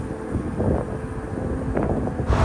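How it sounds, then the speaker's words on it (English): Strong desert wind buffets the microphone in a deep desert depression below sea level, a loud rumbling roar with gusty surges throughout. "It's really windy"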